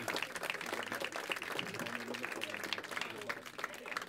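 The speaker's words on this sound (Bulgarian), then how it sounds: "Нека да ги поканим с аплодисменти." Audience applause greets guests arriving at a rooftop party event, steady dense clapping throughout with a host's voice talking over it.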